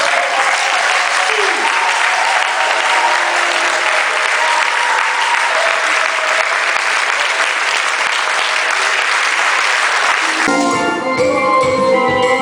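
A church congregation at an installation service applauds loudly and steadily for several seconds, a dense wash of clapping that gives way near the end to music and voices.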